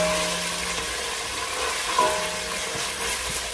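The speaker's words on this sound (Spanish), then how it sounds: "Ya que se sofríe un poquito, se frita un poquito la pasta de tomate" Tomato paste frying in a pan for Turkish meatball soup, a soft steady sizzle and crackle with a faint stir or scrape midway, quiet and close with no talking.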